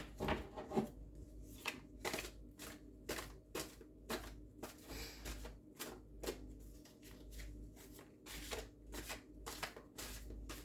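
Tarot cards are shuffled by hand in a quiet room, a string of close, crisp riffling bursts repeating at an even rhythm with short pauses between them.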